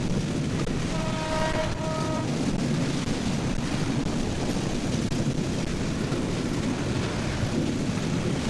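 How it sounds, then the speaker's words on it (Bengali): A passenger train on the Kurigram Express route rumbles past alongside, a steady broad roar close by, with a brief tonal horn-like hum early on. "আরেক পাশে হচ্ছে ট্রেন যাচ্ছে, দেখুন"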